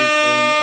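A short, loud air horn blast sounds on a live wrestling talk show, one steady buzzing tone held for under a second with no talk over it.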